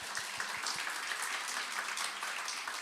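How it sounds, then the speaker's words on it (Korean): A church congregation during a Sunday worship service gives a round of applause, a soft, scattered patter of clapping heard from a distance and holding steady for a few seconds. "여기 박수로 한번"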